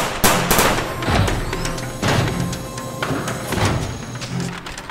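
Toy Nerf blasters fire in a loud, rapid volley at a robot, with repeated sharp bursts and thumps spread across a few seconds and no talking.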